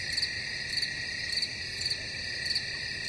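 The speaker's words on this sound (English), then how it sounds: "The crickets itself is the music." Crickets chirp steadily in the Ghost Town area of the Nebula Realms video game, a high continuous trill with regular brighter pulses roughly every half second, alone without any speech.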